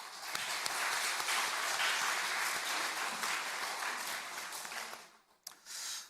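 A church congregation at a Sunday service claps for the choir and worship team, a full, steady applause that fades out near the end, leaving a brief final patter.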